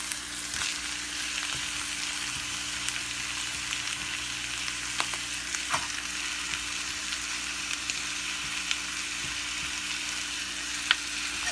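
Tomatoes sizzle and fry steadily in a pan of pepper chicken gravy, a continuous crackling hiss with occasional small pops and stirring sounds, with no voices.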